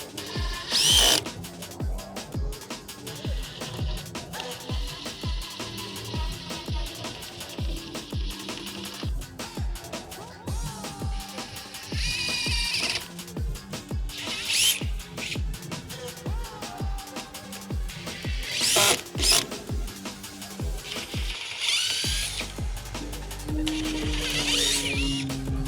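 A DeWALT impact driver hammers screws into stubborn wood in rapid rattling bursts that start and stop repeatedly, close and fairly loud, with short pauses between runs.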